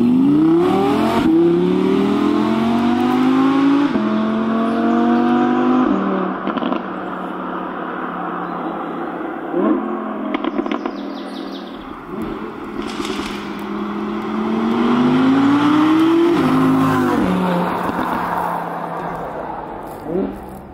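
A sports convertible, an Audi R8 V10 or Porsche 911 GTS, accelerates up through three gears, its engine rising loudly in pitch, dropping at each shift, then climbing again, with someone talking over it.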